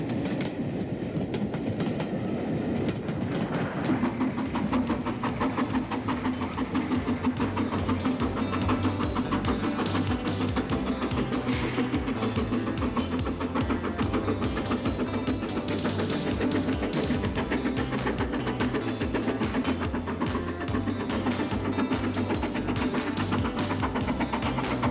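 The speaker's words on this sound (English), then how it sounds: "the Scots' powerful Duchess-class locomotive climbs the bank with ease and well within the booked time" A powerful Duchess-class steam locomotive on British main line climbs a steep bank, its steady, heavy rumble and clattering wheels continuous and loud throughout, with no one speaking.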